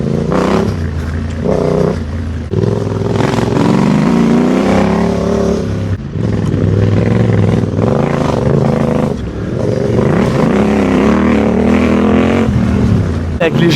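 A motorcycle's engine roars and revs hard as the rear wheel spins and slips on a loose dirt trail in Spain, loud and continuous with surging pitch, while riders talk over it.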